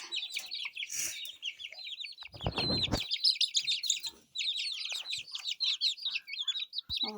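Many small chicks peep continuously in high, rapid chirps, close by, with a brief rustle partway through; no voices.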